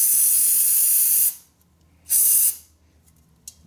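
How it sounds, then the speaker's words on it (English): Solvent sprayed from an aerosol can onto BMW R65 motorcycle brake parts: a loud, close hissing spray lasting over a second, a pause, then a second shorter burst. "Key with any solvent, spray it on, liberal coat, dab it off"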